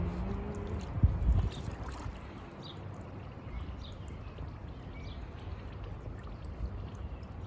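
Nike Air Jordan 1 sneakers are lowered into a bucket of bleach water, a brief splash and slosh near the start followed by quiet bubbling and faint water movement.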